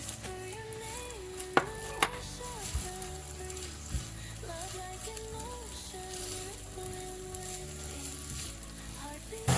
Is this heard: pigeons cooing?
no